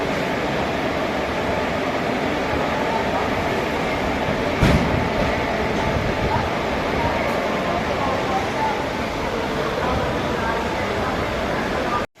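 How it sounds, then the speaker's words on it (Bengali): A passenger train runs steadily on its rails after departing, a continuous loud rumble of wheels and carriage noise with a brief clank near the middle, heard from on board. "ট্রেন ছাড়লো ট্রেনের সময় অনুযায়ী।"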